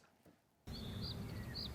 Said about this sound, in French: Des oiseaux, tout simple.